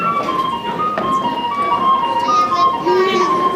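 Oja, a three-hole Igbo wind flute, plays bright sustained whistling tones in the background at a kola nut breaking ceremony, steady and moderately loud, with children's voices and crowd murmur mixed underneath.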